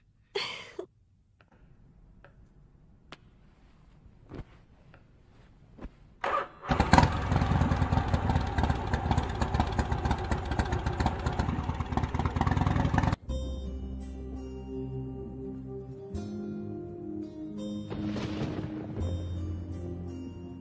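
A motorcycle engine cranks and catches, then runs loudly for several seconds before cutting to a lower, steadier idle tone, close by with no talk.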